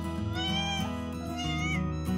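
An odd-faced kitten meows steadily and insistently, its clear, tonal cries following one after another at close range with no pauses.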